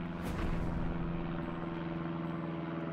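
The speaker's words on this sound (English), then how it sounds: "Halifax bombers taxiing the runway." Several Halifax bombers taxi on a runway in a World War II strategy video game, a steady droning propeller-engine rumble that holds at an even level throughout.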